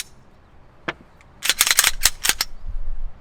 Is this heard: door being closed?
no